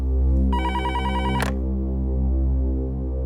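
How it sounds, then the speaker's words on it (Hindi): A telephone bell rings in one short electronic burst over a low steady hum, then stops abruptly. "आइए, उठाइए फोन"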